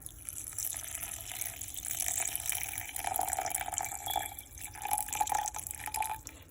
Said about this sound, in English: So here I'm adding the water.